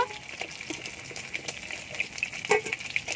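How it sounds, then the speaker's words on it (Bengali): Sea crabs fry in ghee in a pan, giving a soft, steady sizzle with light stirring scrapes and small pops, close by and with no one talking. "কাঁকড়াগুলো ভাজা হয়ে গেছে"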